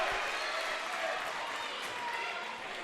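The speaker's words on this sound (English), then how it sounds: "Crowd gives a nice cheer." Crowd in a gym cheering at a girls high school basketball regional semifinal, a fairly faint, broad wash of cheering and applause that fades gradually, with a voice heard over it.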